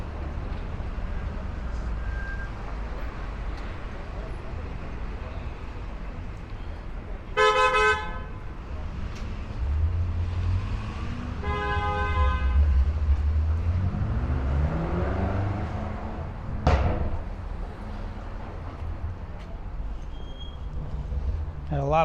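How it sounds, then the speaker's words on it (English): Car horns honk on a busy Brooklyn street along Myrtle Avenue between Bushwick and Ridgewood, several short and long blasts over steady traffic rumble and city noise, with voices in the background. "Had a lot of horn honking down here."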